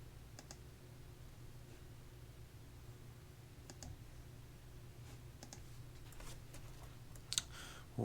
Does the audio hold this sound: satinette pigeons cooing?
no